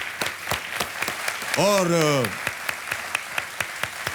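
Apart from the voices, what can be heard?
studio audience applause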